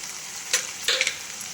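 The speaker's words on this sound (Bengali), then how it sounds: "এবার দিয়ে দিব চিকেনগুলো। ভালো করে কষিয়ে নেব।" Chicken pieces frying in spiced oil for a white gravy, a soft continuous sizzle broken by two or three brief scraping stirs of a spatula in the pan.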